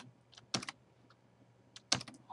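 Soft, sparse keyboard typing: a few quick clusters of key clicks with pauses between, faint and close over quiet background hum.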